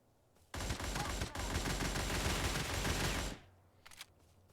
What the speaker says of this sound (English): And this is the burst fire.